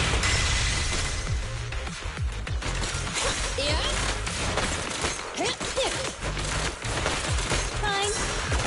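Gunfire from the video game Zenless Zone Zero, a dense run of bursts and impacts that fills the whole stretch while character voices call out over the battle.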